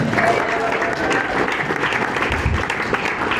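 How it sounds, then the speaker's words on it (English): Applause from a restaurant or club audience for the wait staff, a brief burst of clapping and crowd noise at close range with voices mixed in. "Round of applause for your wait staff."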